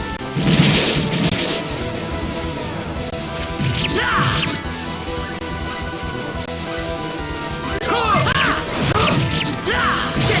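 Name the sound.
Energy Arrow spell attack in video game Star Ocean Second Evolution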